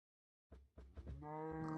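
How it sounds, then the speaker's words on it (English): A cow moos in Minecraft: a few short low grunting pulses building into one sustained lowing call, close and clear, with no talk over it. "I heard a cow, I was concerned."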